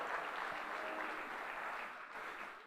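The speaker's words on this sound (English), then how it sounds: "let's give all of our heifer exhibitors a nice round of applause" Steady applause from the audience at a youth fair beef breeding show, honouring the heifer exhibitors; continuous clapping holds evenly for a few seconds, then eases slightly toward the end, with no talk over it.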